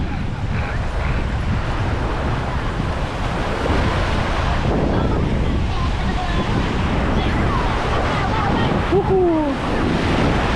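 Ocean surf rolls onto a Florida beach, a constant roar of breaking waves mixed with heavy wind buffeting the microphone, with a voice briefly whooping near the end.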